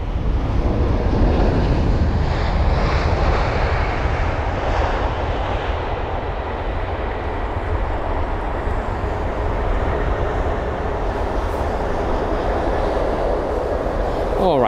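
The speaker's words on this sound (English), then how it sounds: "So this is the 787-9 Dreamliner from Mexico City." A British Airways Boeing 787-9 Dreamliner arriving at London Heathrow from Mexico City, its engines making a loud, steady roar that holds for the whole stretch, with a voice talking briefly over it.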